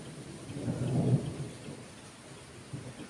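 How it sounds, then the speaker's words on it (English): Rain and thunder during a drizzly outdoor storm, a low rumble swelling and fading in the first half over a steady hiss of falling rain, fairly faint and distant, with no voices. "But starting to drizzle and rain."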